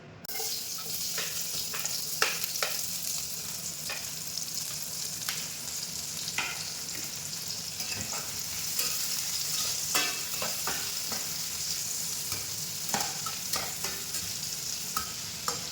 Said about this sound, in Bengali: তেলের উপরে পেঁয়াজটা দিয়ে দিই